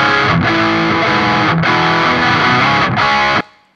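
Distorted electric guitar chords through an amplifier speaker, miked close to the center of the cone, ring out bright and loud in three sustained strums with short breaks, then stop abruptly.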